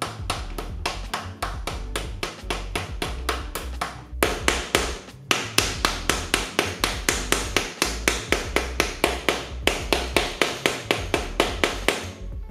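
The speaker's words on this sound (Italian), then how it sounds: "Poi con il martello di gomma andiamo a battere cercando di stare dritti." A rubber mallet repeatedly strikes a BB30 bottom bracket bearing to seat it in a bicycle frame, producing a steady series of sharp, close knocks, a couple per second with short pauses between.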